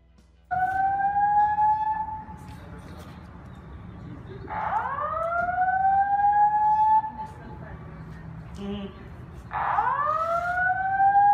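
A fire alarm wails in repeated rising, whooping sweeps, three cycles over about eleven seconds, loud and steady over a murmur of voices and people talking nearby.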